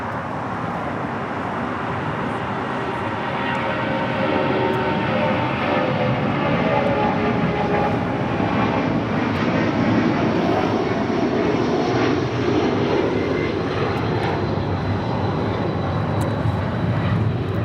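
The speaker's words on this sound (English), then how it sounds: "This is Delta 670 taking off to JFK on a 757-200." Delta Boeing 757-200 taking off at LAX, a loud, sustained jet engine roar that stays broad and steady throughout, with faint traffic noise beneath.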